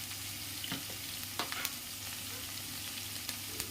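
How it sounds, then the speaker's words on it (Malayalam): Onion, green chili, ginger, garlic and curry leaves sauté in hot oil in a pan for a Kerala black chickpea curry, a steady close sizzle broken by a few sharp scrapes and clinks of stirring. "ഇത് ഇത്രയും ചേർത്ത് നമുക്ക് കരിയാപ്പിലയും കൂടെ ചേർത്ത് നല്ലതുപോലെ ഒന്ന് വഴറ്റിയെടുക്കാം"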